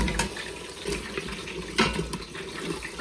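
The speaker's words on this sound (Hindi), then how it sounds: "थोड़ा सा पानी डाल के।" A little water poured into a cooking pot during the making of a potato and egg curry, a steady splashing pour in a home kitchen with faint clinks.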